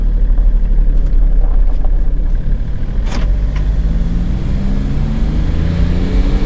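A 2006 Smart ForTwo turbo diesel is floored uphill, its engine droning loudly and steadily from inside the cabin while the pitch climbs gradually as it accelerates.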